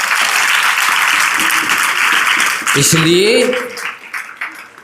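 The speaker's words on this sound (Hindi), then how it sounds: "तालियां बजाओ।" Schoolgirls at Pratibhasthali in Jabalpur applaud a monk's address with a dense burst of clapping that fades out, after which a voice begins speaking.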